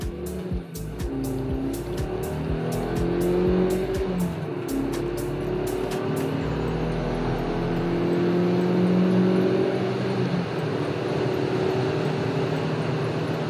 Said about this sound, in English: it's clear when the car shifts, and that's with the pedal to the metal